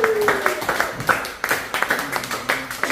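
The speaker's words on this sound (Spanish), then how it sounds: "¡Aplausos!" Clapping from a small group, a quick run of sharp hand claps with people talking and calling out over it, close and fairly loud throughout.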